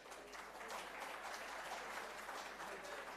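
An audience claps steadily at a silver jubilee celebration for the tenth batch of KCT, a dense, even patter of many hands, fairly faint and continuous throughout.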